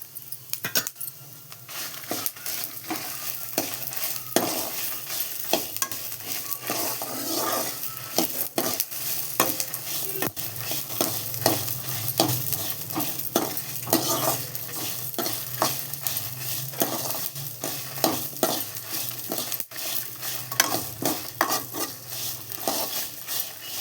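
Whole dried chillies with their stems on dry-roast in a pan for garlic powder. Continuous close stirring produces rapid scraping clicks and rattles over a soft, sustained sizzle.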